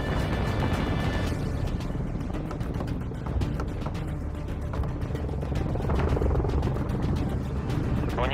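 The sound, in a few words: helicopter arriving in video game Warzone Mobile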